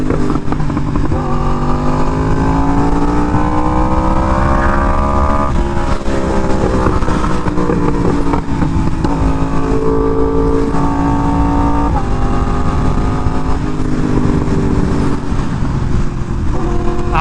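A Yamaha R1M sport motorcycle fitted with a new exhaust runs loud and close, its engine note rising and falling through repeated revs and gear changes, with a steady roar and no voices.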